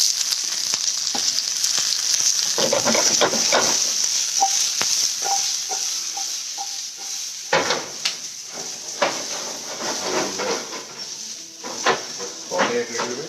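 Onions sizzle and hiss in a hot pan for a raw mango and pumpkin dish, with a steady frying crackle, clinks of a utensil tossing them and a person talking over it.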